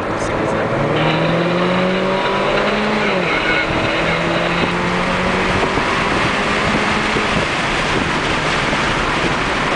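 A Mini Cooper S accelerating on a track at a driving experience event, its engine note rising and shifting through gears, loud and close from inside the cabin with wind and road roar, while people talk over it.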